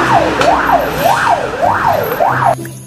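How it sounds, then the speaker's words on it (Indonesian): A toy fire truck siren wails in steady rising and falling cycles, loud and close, then cuts off abruptly. "ini mobil pemadam kebakaran"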